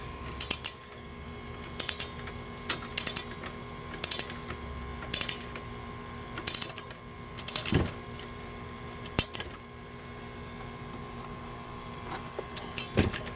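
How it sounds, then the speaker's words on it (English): A torque wrench tightening the front wheel bearing bolts on a Chevrolet HHR to 85 foot-pounds gives scattered short clicks and ratchet ticks, quiet and close, over a low steady background hum. "I've got my torque wrench set to 85 foot-pounds for these as well. We're going to go ahead and torque these."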